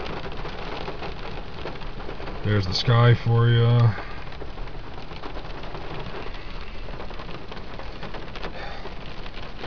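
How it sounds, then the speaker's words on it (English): Heavy rain pouring onto a car roof on a dark morning, a constant dense patter throughout, briefly under a short spoken phrase near the start. "You can see the rain just coming off the roof of my car."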